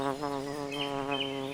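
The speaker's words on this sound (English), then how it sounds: "Bees hummed." A steady buzzing hum of bees close by, droning continuously with slight wavering in pitch.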